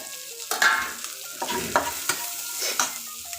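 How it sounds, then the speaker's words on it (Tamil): Chopped onions sizzle and crackle in hot oil, with intermittent scraping stirs of a utensil in the pan. "நான் கொஞ்சம் வெங்காயம் போட்டுக்கிறேன். நறுக்கின வெங்காயத்தை"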